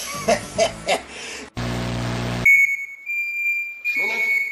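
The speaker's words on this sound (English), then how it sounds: "it set off the smoke detectors" A steady high-pitched smoke detector alarm sounds after some laughter and a burst of broadband noise, set off while cleaning a George Foreman grill, holding continuously before voices return near the end.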